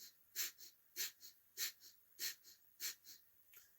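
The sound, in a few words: breath of fire yogic breathing, forceful exhales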